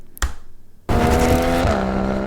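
A car engine recorded close up, used as a gear-change effect: a sharp click, then a sudden loud surge of engine roar that holds steady and shifts pitch partway through.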